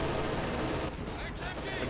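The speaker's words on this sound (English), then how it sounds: "Machine guns galore there mounted on the Panther tank" Machine guns mounted on a Panther tank fire in the World War II strategy game Company of Heroes 2, a dense continuous rattle of gunfire blended with battle noise.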